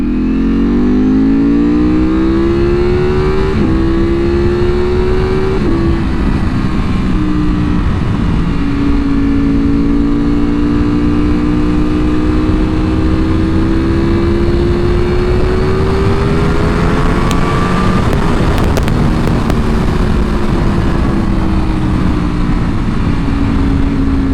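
Ducati V4R motorcycle engine with an undertail exhaust, a loud close rumbling drone that holds steady, then climbs and falls through several rev changes, running continuously with no voices.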